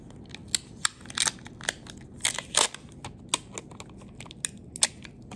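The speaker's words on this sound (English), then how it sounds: "I'm going to use just a little bit of rolled up tape" A small piece of rolled-up tape is pressed onto a notebook page, making close, crinkly crackles and sharp little taps at irregular intervals.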